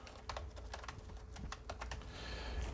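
Someone types quickly on a computer keyboard, a steady run of light, close clicks that grows slightly busier toward the end, with no voices.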